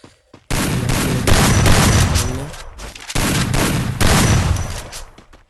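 Sustained automatic gunfire in the mobile shooter Free Fire, loud and close, running in dense bursts almost the whole clip with a brief break near the three-second mark.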